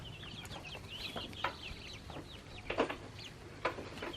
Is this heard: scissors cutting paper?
no